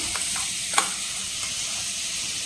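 Garlic sizzling in hot butter in a pan, a steady bright frying hiss throughout with a faint stir clink near the middle.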